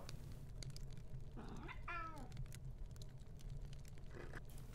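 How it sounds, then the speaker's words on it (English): A cat meows in the hidden-object game Grim Tales: Color of Fright, one drawn-out wavering cry followed by a fainter meow, over a quiet, steady background of game ambience. "So, I need to help that cat."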